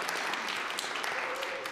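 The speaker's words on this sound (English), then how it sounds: "Give her a round of applause." A church congregation at Sunday worship gives Eva a round of applause, a dense, even patter of many hands, with a voice faintly present underneath.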